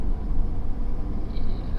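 2017 Ford F-250 Lariat Ultimate with a 6.7 Powerstroke diesel on 35 12.5 R20 tires driving, a steady low road rumble heard from inside the cab.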